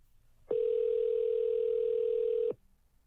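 A telephone line tone during a cold call sounds as one steady, loud, unbroken tone that lasts about two seconds and then cuts off into near silence.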